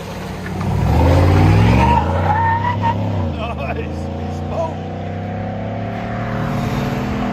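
The 5.3L V8 of a 2019 Chevy Silverado Z71 pickup with a Borla ATAK dual exhaust rumbles loudly and deep, swelling then settling into a steady throaty drone with some voices in the background.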